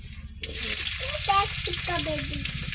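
Panch phoron spices and onion fry in a pan with a bright, steady sizzle that starts abruptly after a short quiet moment and keeps going. A faint voice is heard underneath.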